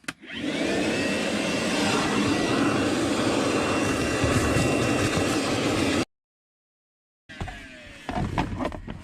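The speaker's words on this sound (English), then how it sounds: "let's vacuum all that stuff up." A vacuum cleaner roars loudly and steadily for several seconds, then cuts out and starts again, with faint rattles of debris being sucked up from a Nissan Rogue's cabin air filter housing.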